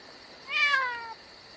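A single clear cat meow rises and then falls away, close and moderately loud against a quiet background, lasting under a second.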